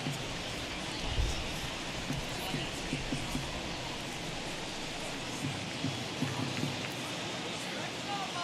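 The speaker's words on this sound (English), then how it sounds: "This has got to be the hardest rain we've seen all afternoon." Heavy rain in MLB The Show 21 during an Athletics versus Orioles game hisses as a steady, broad wash, with faint crowd and game sounds mixed underneath.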